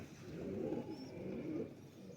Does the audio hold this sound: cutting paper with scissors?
no